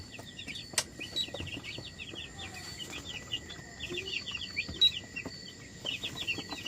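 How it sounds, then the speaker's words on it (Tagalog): Five-day-old Cobb 500 broiler chicks peep in a warm brooding house, a dense, continuous chorus of high chirps from many birds at once, fairly faint and steady, with no voices. "Ayan, isang sisiw."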